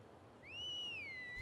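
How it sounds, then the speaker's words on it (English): A whistle blown by a player character in the Elder Scrolls Online fantasy game sounds as one rising, then gently falling tone, moderately loud, held steadily for about a second over quiet ambient background. "Use whistle."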